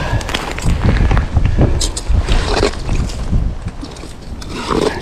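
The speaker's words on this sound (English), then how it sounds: "Wind has picked up even more." Strong, gusting wind buffeting the microphone on a frozen lake during extreme-cold ice camping, loud and roaring with rumbling surges throughout.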